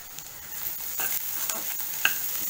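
Soft continuous sizzling of about 200 grams of roughly chopped mushrooms in a pan, with occasional scraping clicks of a utensil stirring, fairly quiet and steady.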